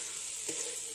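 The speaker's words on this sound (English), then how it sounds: "After about 5 minutes, you'll want to lift that lid and give it a stir." Hash browns loaded with jalapeno sizzle steadily in an electric skillet, a soft, faint hiss with one brief scrape of a stir partway through.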